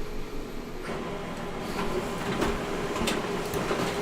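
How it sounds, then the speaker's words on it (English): A home printer runs through a print job, giving a steady close mechanical whirring and rattling with small clicks and no talk over it. "My printer's going off."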